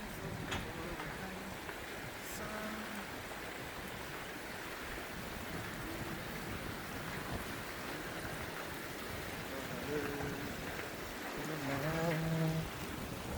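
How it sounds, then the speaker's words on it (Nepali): A mountain river in Upper Dolpa, near Charka village, flows with a steady, close, broadband rush throughout, and faint voices come in near the end. "यो चाहिँ खोला हो है यो खोला"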